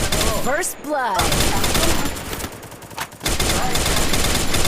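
Rapid gunfire bursts from the Free Fire battle-royale game crackle amid busy in-game noise, loud and close, with a voice briefly heard among the shots.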